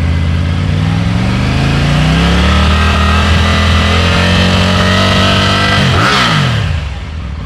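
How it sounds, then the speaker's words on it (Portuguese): A 2023 or 2024 Triumph Tiger 900 Rally Pro motorcycle engine revved slowly and steadily upward, its tone climbing smoothly for several seconds before the throttle snaps shut and the revs drop back, loud and close with no speech. "Subindo o giro devagar."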